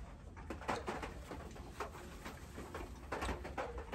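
A racing pigeon coos softly in a loft, repeated low murmuring calls over faint background noise, quiet and without talk.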